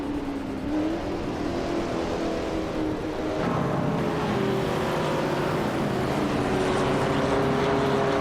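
Engines roar steadily in a video game race featuring a 1970 Ford Mustang, a continuous droning whine with shifting pitch as cars accelerate, fairly loud and with no talking.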